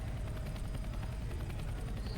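A helicopter in the Roblox game Criminal Tycoon starts up, a steady rhythmic thumping of rotor blades over an engine drone, moderately loud and continuous with no talk.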